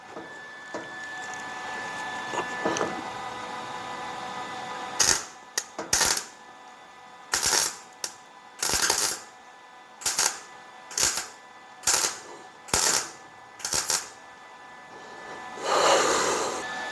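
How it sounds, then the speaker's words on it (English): Series of short, sharp crackling bursts from tack welding a 1968-69 Pontiac GTO front fender, about ten quick separate zaps spaced a second or so apart after a quiet stretch, close and loud. "I'm gonna give it a nice tack weld right in there"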